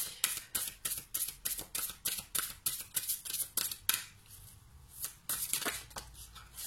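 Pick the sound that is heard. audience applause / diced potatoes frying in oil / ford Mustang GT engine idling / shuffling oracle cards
shuffling oracle cards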